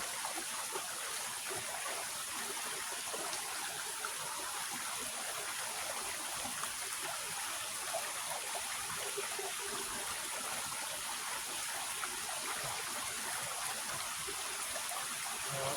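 Stream water flowing beside a hiking trail at a camping spot, a steady, even rushing wash with fine trickling texture that holds continuously throughout, with no talk.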